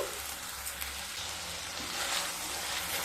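Spices for masoor dal with kohlrabi are sautéed in a pan, giving a constant moderate sizzle and hiss, close and even, with slight swells and faint stirring.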